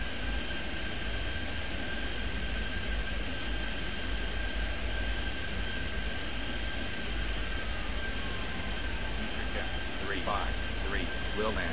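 A jet airliner in Airport Madness 3D takes off at LaGuardia with a steady, loud engine roar and broadband rush that holds for the whole stretch, with a high whine running through it.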